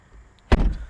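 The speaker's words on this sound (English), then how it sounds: "and then when I shut the door" A 2022 BMW M440i Convertible's door shuts with a single heavy, solid thud from close inside the cabin, after near silence, with a short muffled resonance trailing off.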